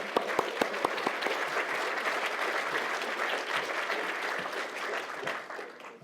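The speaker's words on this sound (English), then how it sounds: "If we could all have a massive shout out, a big clap for Patricia." An awards ceremony audience at an AI awards event claps for a guest coming onstage, steady moderately distant applause with a few sharp individual claps at the start, no voices.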